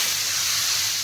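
Tadka of spices sizzling in hot ghee for a Malwa-style mixed dal, a steady loud hiss filling the moment, close up with no voices.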